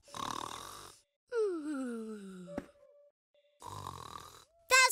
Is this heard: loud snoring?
yes